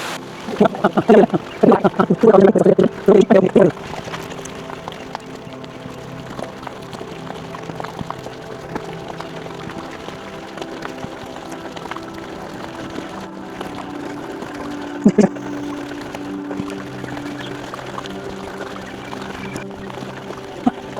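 A waterfall fed by a mountain stream on the Karshi Gudda trek pours with a steady, broad rush; a louder voice speaks briefly over it at the start.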